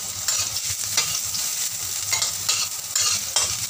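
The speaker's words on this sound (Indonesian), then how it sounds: "Lalu kita tumis jahe dan bawang putih yang kita keprek." Crushed ginger and garlic stir-fry in hot oil in a wok, the base for a chicken dish: a steady close sizzle with repeated bursts of spatula scraping and stirring throughout.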